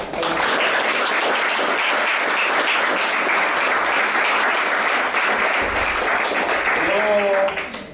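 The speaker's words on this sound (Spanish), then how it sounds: "Un aplauso, por favor." Audience applause at a political forum on Marxism-Leninism, a loud, sustained wash of many hands clapping that continues evenly for several seconds, then a voice begins to speak as it fades at the end.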